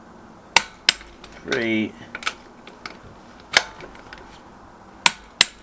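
Sharp metallic clicks of a torque wrench ring out as bolts on a Honda VFR750 RC36 wheel are tightened, several isolated snaps with a brief ratcheting burst between them, close up, and a voice counts briefly.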